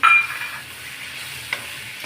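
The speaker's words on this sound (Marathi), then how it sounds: "मसाला छान फ्राय होतो आहे" Masala spices fry and get stirred in a hot pan, a short scrape at the start, then a soft steady sizzle with a small clink near the end.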